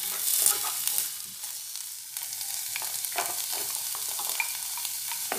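Onion going into a thin drizzle of olive oil with a garlic clove, sizzling and frying steadily while it is stirred, with scraping strokes in a close, continuous sauté for a chicken lasagna sauce.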